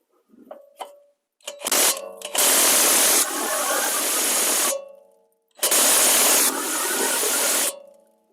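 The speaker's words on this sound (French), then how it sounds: "Allez, clé à choc." An impact wrench works on a rear suspension arm bolt of a Saab 9-3, with short whirring blips, then two loud sustained hammering bursts of about three and two seconds separated by a pause, close up amid clanks.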